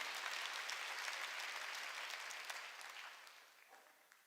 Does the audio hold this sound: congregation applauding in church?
yes